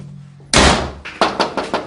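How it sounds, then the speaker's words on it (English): A house door slams shut with a loud, sudden thud, followed by several quicker, lighter knocking impacts that ring briefly; no voices. "slammed the door in our face"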